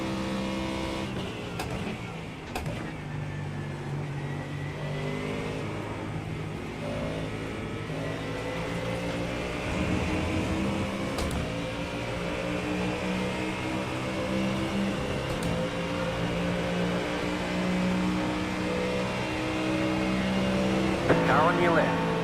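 IMSA GT3 race cars howl around the Monza circuit in the iRacing sim, engines droning steadily with shifting pitch as they accelerate and pass, while a voice talks intermittently over the constant engine noise.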